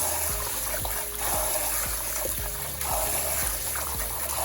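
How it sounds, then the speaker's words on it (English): Rice swirled by hand in a bowl of room-temperature water gives a soft, steady trickling and sloshing close by, with faint rhythmic knocks running underneath. "washing your rice, all it entails is just basically swirling it around"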